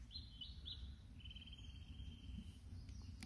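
Several short bird chirps and a thin high whistled note ring out over steady low outdoor rumble at Carsington Water, fairly faint and at a distance.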